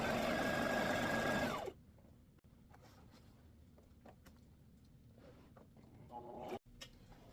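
A sewing machine stitches fabric for a travel organizer in a short, fast, loud run that stops abruptly, leaving near quiet before a brief second burst of stitching.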